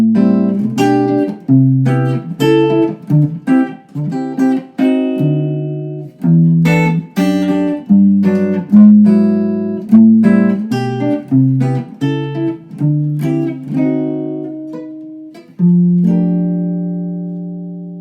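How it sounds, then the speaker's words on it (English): A Gibson electric guitar played through an amp picks out a flowing sequence of plucked notes and chords, clean and close, with steady rhythmic attacks and a final sustained note ringing out alone. "this is the basic Gibson"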